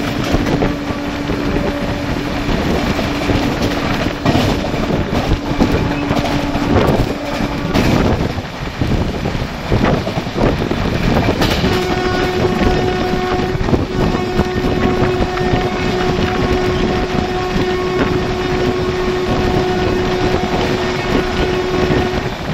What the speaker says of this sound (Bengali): এই সময়টা কিন্তু হতে চলেছে এই জার্নির অন্যতম সেরা একটা মুহূর্ত, যেখানে আমরা এখন ওভারটেক করছি হাওড়া পাঁশকুড়া লোকালকে